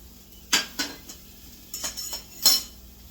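Metal utensils and plates clink in a kitchen while a sauce is made, several sharp separate clinks and taps, near and fairly quiet, with no talking.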